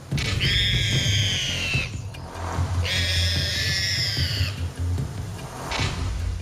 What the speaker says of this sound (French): Les cris du cochon sauvage révèlent la réalité inquiétante des combats dans la nature.